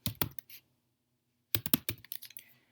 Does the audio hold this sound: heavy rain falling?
no